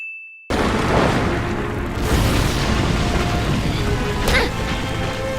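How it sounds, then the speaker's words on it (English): Huge explosion in a film scene: after a brief tone, a sudden loud boom bursts in and rolls on as a dense rumbling roar, with a second sharp crack near the end. "a very much unexpectedly huge explosion"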